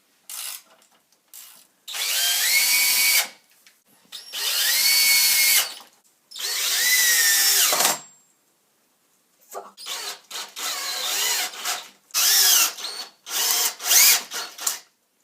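A power drill driving screws through angle brackets on a homemade engineless car, heard as several loud, close whirring bursts of a few seconds each that rise in pitch under load, with brief pauses between them and no talk.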